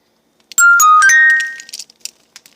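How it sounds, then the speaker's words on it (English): A phone timer alarm sounds a bright, chiming electronic melody for about a second, loud and close. A few faint clicks and knocks follow. "It's my timer going off on my phone"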